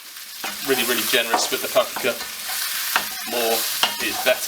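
Paprika is stirred into onion and garlic in a frying pan, with steady scraping and sizzling close by while a voice talks over much of it.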